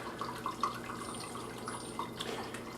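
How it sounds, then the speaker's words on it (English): Vegetable stock strains through a paper towel, giving a soft, continuous trickle with scattered small drips, close and fairly quiet, with no voices. "Let it drip down."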